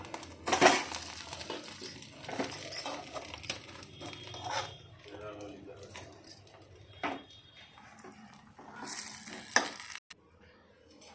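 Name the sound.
stirring and frying egg fried rice with masala in a pan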